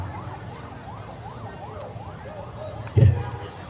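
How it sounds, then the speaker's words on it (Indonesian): An ambulance siren wails in a repeating up-and-down pattern at moderate distance. A crowd murmurs beneath it, and a sudden loud thump breaks in near the end. "tolong diatur, jangan mengganggu ambulan"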